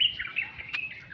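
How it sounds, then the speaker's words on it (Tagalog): Birds chirp and tweet outdoors in a rural area near mango trees, a steady stream of bright, high calls with one sharper, louder note standing out, heard fairly close with no talking. "At tunog ng ibon."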